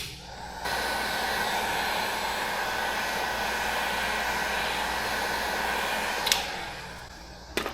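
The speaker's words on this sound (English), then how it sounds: "what I like to do is heat up the adhesive with a heat gun, or you could use a hair dryer" A heat gun blows steadily for about six seconds at close range, warming the adhesive behind a car badge before it is removed, a constant broadband whoosh that cuts off near the end.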